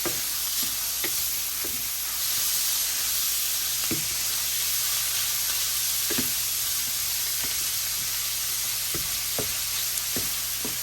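Precooked chorizo sizzles steadily in a pan while it is warmed and broken up, with a constant hiss and sharp scrapes and knocks from the stirring spoon at irregular intervals.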